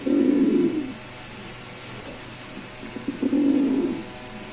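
Pigeons of a fancy show breed coo in two low, rolling bursts separated by a quiet gap, close to the microphone with no talking.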